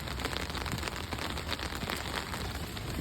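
Rain falls outdoors on a wet winter day, an even, unbroken patter of drops on the ground, fairly close and steady throughout.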